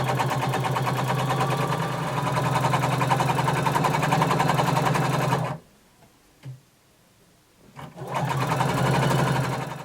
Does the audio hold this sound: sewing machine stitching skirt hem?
yes